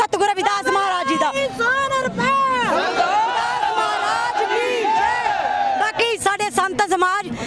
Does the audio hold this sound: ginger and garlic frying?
no